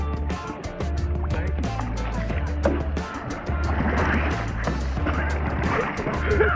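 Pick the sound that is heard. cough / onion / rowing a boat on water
rowing a boat on water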